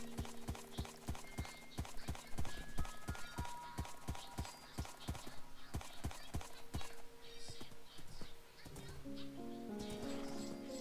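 Rapid, steady Minecraft horse hoofbeats clop along in a galloping rhythm over layered game music, with a tonal chime near the end.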